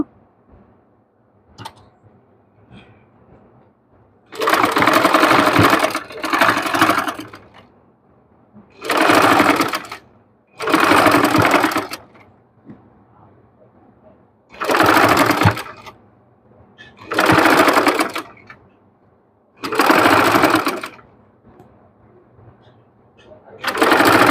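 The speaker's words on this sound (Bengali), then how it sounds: "এখন আমি এই সাইডে সেলাই দিয়ে লেসটা একদম ফিনিশিংভাবে বসিয়ে নিব" A sewing machine stitches lace onto the neckline of a dress in repeated loud bursts of rapid mechanical whirring, each lasting one to two seconds and separated by short quiet pauses, heard close up without talk.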